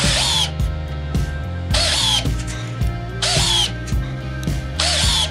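Black & Decker battery drill set to torque 10 driving large screws in three loud, whining bursts that ramp up in pitch, with a steady mechanical hum between runs.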